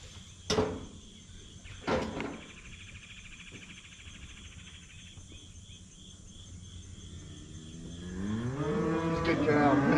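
A cow on a farm, a pregnant-checked animal in poor condition being readied for sale, gives two short moos early on, then a longer, louder drawn-out bellow builds at the end over steady insect and outdoor background noise.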